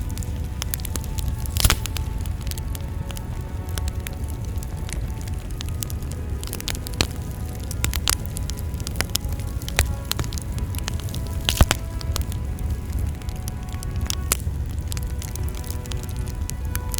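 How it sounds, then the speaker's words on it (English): Wildfire blaze with a fire tornado during the Chaparral Fire near Murrieta, California: a steady rushing roar with scattered sharp crackles and pops throughout, at moderate loudness and with no talking. "A massive blaze and a fire tornado were captured during the Chaparral Fire in Merida, California"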